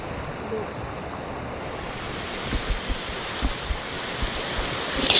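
Rushing water from Mainit Falls, a hot sulfuric waterfall in Maco, Davao de Oro, pours as a continuous broad roar, with wind buffeting the microphone and a few low thumps.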